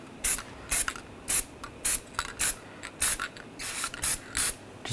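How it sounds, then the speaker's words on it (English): Anti-seize being sprayed onto the front wheel hub surface of a 2014-2018 GMC Sierra 1500 pickup during a bearing and hub replacement, close-up as about ten short hissing aerosol bursts with the aerosol can rattling between them. "Just going to spray a little anti-seize on the hub surface."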